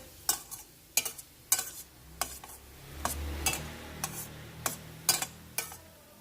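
Shakkar pare frying in hot ghee, a steady low sizzle under a series of sharp, evenly spaced clinks and scrapes of a utensil stirring the pieces in the pan, close and fairly quiet.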